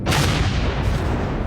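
A loud, dense burst of gunfire firing at drones in Empyrion Galactic Survival, booming and continuous, close up with no voices.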